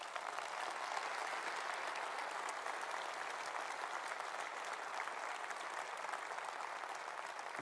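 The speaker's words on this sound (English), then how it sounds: "You see my friend Michael leading the clap there." An audience applauding a political speech about leaving the EU and free trade, sustained dense clapping throughout, steady and fairly loud with no voices on top.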